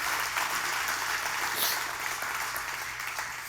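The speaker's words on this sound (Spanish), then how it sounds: "Dale un aplauso a Dios por eso y por tu casa" A church congregation applauds steadily throughout during a Spanish-language sermon, a dense, even wash of many hands clapping at moderate volume that never breaks off.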